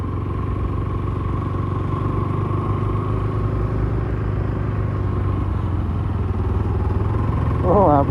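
A motorcycle climbs a steep uphill road toward a hilltop parking area in Nepal, its engine droning steadily and close throughout, with a brief rising whine near the end.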